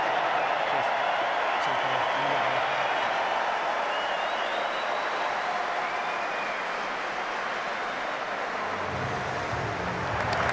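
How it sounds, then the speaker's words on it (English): A packed stadium crowd at a New Zealand v Ireland Rugby World Cup 2019 match gives a sustained ovation, dense continuous applause and cheering with occasional whistles, steady throughout. "just giving Rory Best the ovation he deserved"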